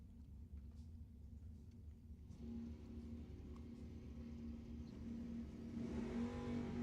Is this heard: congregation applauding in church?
no